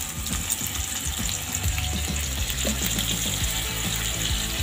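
Beef ribs brown in hot frying oil in a pan on a home stove, a steady dense sizzle and crackle running without pause, close and moderately loud, with scattered clinks and knocks of cookware over the frying.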